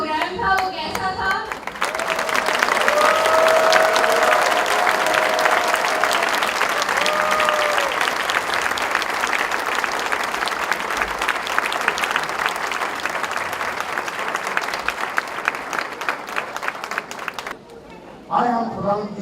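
Sustained audience applause, loud and dense, running for most of the stretch, with brief voices at the start and end.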